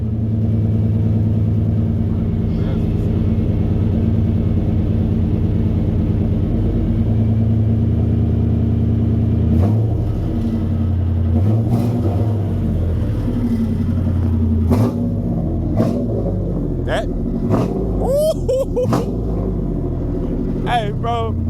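A 1996 Chevrolet K1500 truck engine idles high with a steady, loud, close rumble, joined later by clanks and bangs, while people talk over it.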